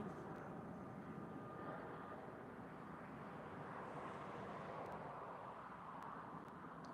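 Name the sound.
airplane taking off at East Midlands Airport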